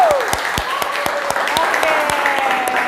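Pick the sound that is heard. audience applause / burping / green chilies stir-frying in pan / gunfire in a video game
audience applause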